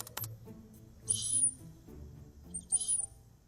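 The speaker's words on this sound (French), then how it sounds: "J'ai ici l'enregistrement d'une souris mâle qui appelle une femelle." Two short bursts of high, thin chirping calls from a male mouse calling a female, ultrasonic and slowed down, separated by a pause, with faint low hum beneath; fairly quiet and close.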